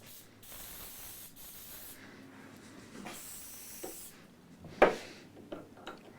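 Glue activator sprayed from an aerosol can on a guitar workbench: a steady, close hiss in a few bursts, followed by a brief knock, with no talking.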